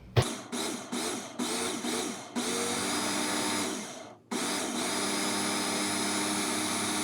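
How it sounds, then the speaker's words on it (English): A blender blending parsnip carrot soup whirs in several short pulses, then runs steadily, cuts out briefly, and roars back up at a constant pitch. It is close and loud. "So we'll go ahead and blend this now."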